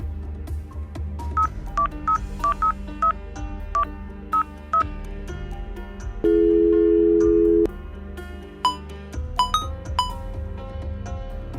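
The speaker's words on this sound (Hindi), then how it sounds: "एक बार कॉल लगा ही लेती हूँ।" A telephone number is dialed on a phone, a quick series of short keypad tones in an uneven rhythm, then a longer steady tone, then a few more rapid beeps, close and clear with no talk.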